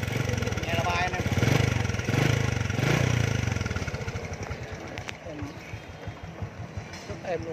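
A 2006 Honda Future Neo GT motorcycle engine runs smoothly at idle, a steady close mechanical hum beneath someone talking throughout.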